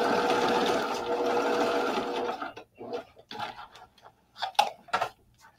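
A sewing machine stitches a clear vinyl zipper case with a steady, close mechanical whir for about two seconds. It then stops, leaving scattered clicks and handling taps.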